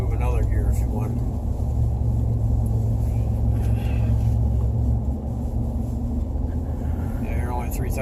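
A 2020 Ford F350 Tremor with the 7.3L engine tows a Black Series caravan, giving a deep, continuous engine rumble heard from inside the cab. People talk over the drone throughout.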